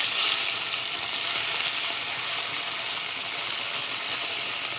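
Tomato drops into a hot frying pan and sizzles in a dense, steady, close hiss that fades only slightly, with no voices over it.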